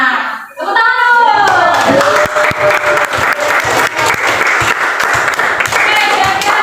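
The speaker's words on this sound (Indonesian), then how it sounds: "Nah, tepuk tangan dulu." A classroom of children claps hands together after their teacher's prompt, loud close group clapping that starts after a brief spoken lead-in and continues steadily, with children's voices chattering underneath.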